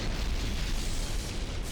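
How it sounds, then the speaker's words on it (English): A loud explosion roars in the PS2 action game Shinobi, a dense rumbling blast that sustains at full strength for the whole short stretch, with no voices over it. "apparently, I would have been fine standing that close to an explosion"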